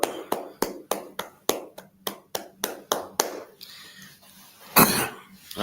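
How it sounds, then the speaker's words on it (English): Hands clap in a slow, evenly spaced series of about twelve sharp claps, then they stop and a brief noisy burst follows near the end, with no speech heard. "Y'all clap it up."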